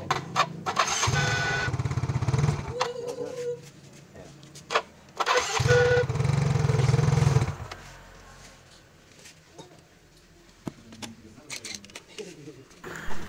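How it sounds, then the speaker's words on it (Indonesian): A Yamaha Mio Vino scooter's electric starter cranks in two loud bursts with a rough, grinding 'nguk' noise, separated by quiet idle-level sound, as someone speaks between them. "Di sini starternya biasa ya, Yamaha berbunyi kasar. Kita coba dengarkan."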